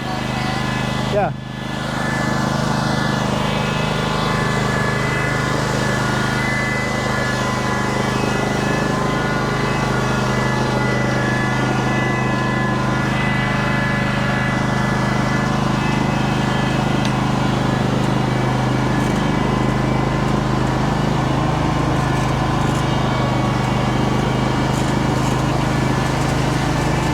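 A tractor engine runs close by with a steady loud drone after a brief thump at the start, continuing unchanged throughout.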